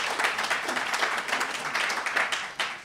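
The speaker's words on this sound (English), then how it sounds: "I want to give him a big round of applause." Applause from a conference audience at a New School event on retirement issues, a steady wash of many hands clapping that holds fairly even for about three seconds before tapering slightly at the end.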